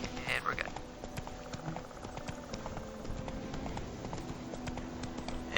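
Roach, a horse in The Witcher video game, gallops with a steady, rapid clip-clop of hooves running under continuous game ambience, while a person talks over it.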